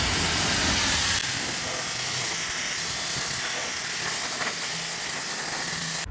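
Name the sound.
pressure washer spraying car bumper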